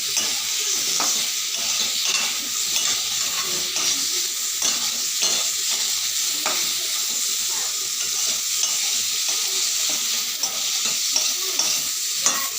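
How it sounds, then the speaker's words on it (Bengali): Sugar caramelizing with olives in a pan on low heat, stirred steadily with a continuous sizzle and soft scraping throughout. "এই যে চিনিটা দেওয়ার পরে এইভাবে করে কিছু সময় নাড়তে থাকতে হবে"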